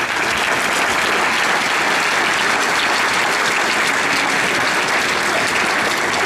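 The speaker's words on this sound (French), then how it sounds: "Nous pouvons les applaudir." Loud, steady applause from a crowd at a New Year's address in Olonne-sur-Mer, France, dense and sustained throughout without letup, no voices over it.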